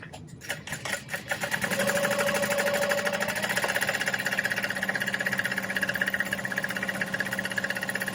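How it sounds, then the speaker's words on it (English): A sewing machine stitches a bag: after a few uneven starting thumps it settles into a steady, fast mechanical whir that runs continuously at moderate volume, with no voices. "then I'm going to sew this other one"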